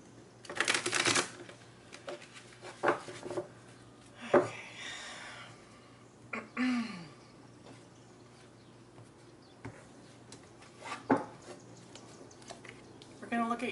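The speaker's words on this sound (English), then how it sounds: "One more shuffle here for Libra." Tarot cards are shuffled in several quick riffling bursts, close and crisp, spaced out across the clip with soft handling noises between them.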